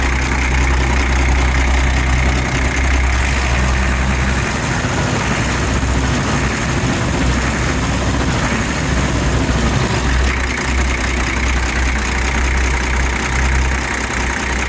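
A restored 1988 Toyota Land Cruiser 60 Series engine idles steadily and loudly up close, a constant low rumble with no voices over it.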